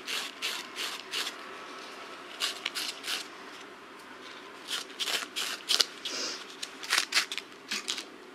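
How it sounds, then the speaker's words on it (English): Fine sandpaper scrubbed over the top edge of a worn denim jeans pocket, a series of quick raspy strokes in irregular bursts, close and fairly quiet with brief pauses between passes. "wear out the top of the pocket a little bit using the fine sandpaper"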